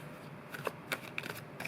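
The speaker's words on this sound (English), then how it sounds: "I am shuffling." A deck of cards being shuffled up close, with quiet riffling and a few sharp flicks, no voices.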